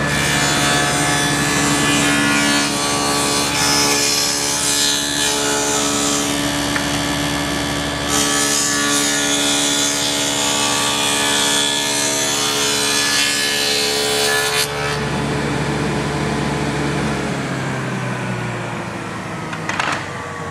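A table saw cuts a dado in wood, a loud steady whine of the blade biting through for about fifteen seconds before winding down, close and with no voices.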